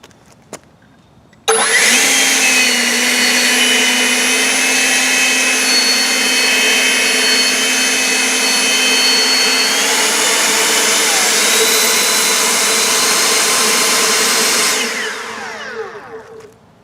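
An EGO Power+ LB6504 cordless leaf blower fitted with its flat tip blasts wet leaves on asphalt in one loud, steady whine with airy roar, starting abruptly and holding for about thirteen seconds before winding down.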